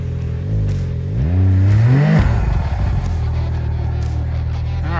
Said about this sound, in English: he's riding a skidoo expedition, pulling a sled full of gear